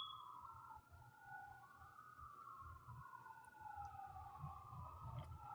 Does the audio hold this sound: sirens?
yes